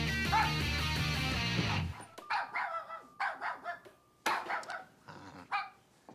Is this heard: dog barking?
yes